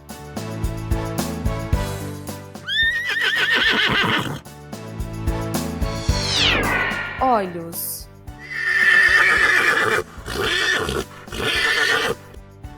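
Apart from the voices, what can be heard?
horse neighing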